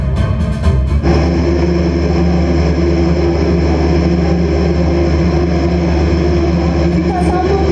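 An Airbus A400M military transport plane of the Indonesian Air Force arrives, its turboprop engines producing a loud, steady, unbroken drone with a constant hum that fills the whole clip.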